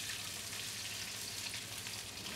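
An oyster omelette, a Taiwanese street snack, fries in a pan with a faint, steady hiss and sizzle that holds evenly throughout, with no talking.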